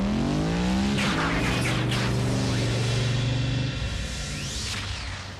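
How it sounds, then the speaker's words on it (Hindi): A cartoon transforming robot car's engine revving hard as it races off, loud and close, with rising engine whine, tire screech and whooshing effects that fade slightly toward the end. "अपना इंजन तैयार रखना। चलो बम्बलबी, अपनी तकदीर आजमाएं।"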